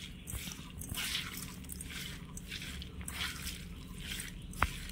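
Soft wet squishing as a hand kneads chhena cheese with sugar in a bowl, a quiet repeated rhythmic mashing with a brief sharp tap near the end, no voices.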